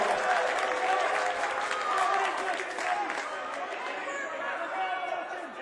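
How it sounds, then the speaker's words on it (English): A high school boys' basketball crowd and bench yelling in loud sustained protest over a travel call, a dense roar of many voices throughout the gym. "Much to the disagreement of both the BFA crowd and the coaching staff, the entire bench up yelling"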